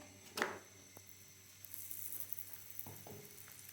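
Mooli paratha frying in ghee on a hot griddle gives a soft, steady sizzle that swells after a light tap near the start and carries on with a few small scrapes and clicks.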